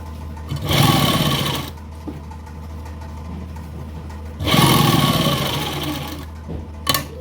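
Sewing machine stitching fabric for lace trim on a garment, running in two loud bursts of steady whirring with a quiet pause between them, no talking.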